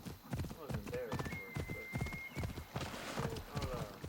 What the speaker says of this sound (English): Flaming horse coming through.